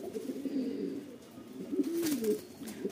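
Soft, low cooing from a Rampuri pigeon, a female, repeating in gentle rolling phrases at close range with faint background noise and no voices.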